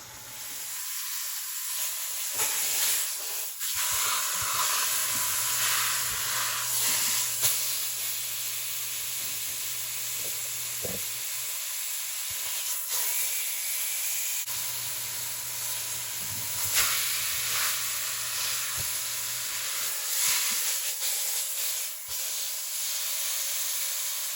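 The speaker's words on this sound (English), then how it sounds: "you're just gonna add it to a hot pan and let it brown on both sides" Meat browns in a hot pan with a steady, loud hiss and sizzle that carries on unbroken for over twenty seconds, close up and with no voices.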